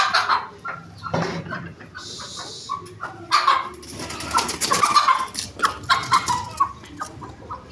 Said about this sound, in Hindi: अभी एक मुर्गी रह गई है ये।